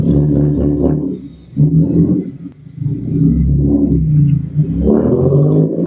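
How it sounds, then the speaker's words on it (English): A car's engine revs in surging waves as it spins out on a corner, heard from a short distance: loud, rumbling rises and dips with brief lulls, and no talk. "this guy comes around this corner, he just spins out right in front of us."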